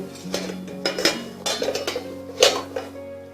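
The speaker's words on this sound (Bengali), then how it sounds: "এবার আমি ঢাকনাটা খুলব" A metal lid comes off a cooking pot of boiling lentils and whole vegetables, giving a few sharp clinks and knocks against a steady low kitchen hum.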